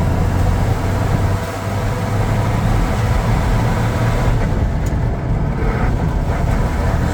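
A 1965 Plymouth Valiant's worn transmission whines and rattles continuously while the car drives down a road, a steady loud mechanical racket with low rumble throughout.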